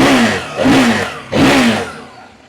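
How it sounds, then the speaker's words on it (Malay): A 2024 CFMoto 800MT Explorer motorcycle's KTM-derived engine revs up three times in quick succession, each rising roar falling back before fading out. "ini engine KTM Engine sebiji sama dengan KTM"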